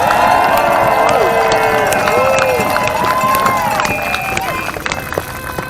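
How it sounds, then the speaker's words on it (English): An outdoor crowd at a Washington DC march cheers and claps steadily for the marchers, a loud, dense roar with whoops and shouting voices running throughout. "Can we give another amazing round of applause for our marchers today?"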